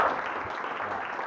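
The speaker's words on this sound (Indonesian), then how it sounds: "berikan aplaus buat kelompok 1" Applause for group 1 in a physical education teaching session, a steady dense patter of clapping filling the whole moment at moderate volume, with no voices over it.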